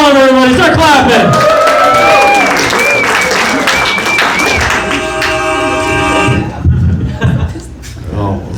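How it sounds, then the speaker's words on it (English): A comedy club crowd claps and cheers as a stand-up comic walks on, and loud walk-on music with sustained tones plays over the applause. The music cuts off near the end, leaving a little crowd noise. "Start clapping."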